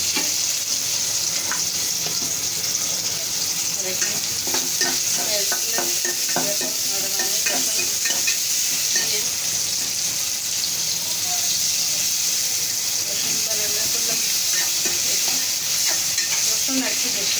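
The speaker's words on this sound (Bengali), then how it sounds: "শাকগুলো একটু হয়ে আসলে উপরেরগুলো নিচের দিকে নামাই দিব, নিচেরগুলো উপরে উঠে দিব।" Greens frying with loitta (Bombay duck) fish in a pan are stirred steadily, a continuous bright sizzle with scraping and clinking of the utensil against the pan throughout, close and fairly loud.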